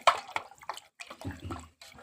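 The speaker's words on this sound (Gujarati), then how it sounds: "હવે આ પાણીને છે ને મિત્રો આપણે આવી રીતે આમ હલાવી નાખવાનું" Pani puri water is stirred by hand in a container at home, with soft sloshing, splashes and drips in short uneven bursts, close and quiet with no talking.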